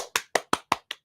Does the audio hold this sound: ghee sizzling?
no